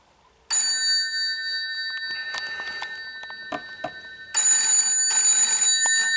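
A mechanical bell on an Ericsson PMG 271 telephone rings in two loud bursts of bright metallic jangling, separated by a stretch of fainter clattering.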